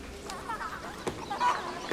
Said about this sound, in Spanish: ¡Hola, ganso!